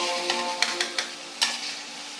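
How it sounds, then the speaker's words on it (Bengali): Ginger and garlic fry with browned onions in a pan for a fish and teasel-gourd curry, a soft continuous sizzle broken by several light taps and scrapes of stirring. "এই যে আমি আদাটা একটু ভাজা ভাজা করে নিলাম"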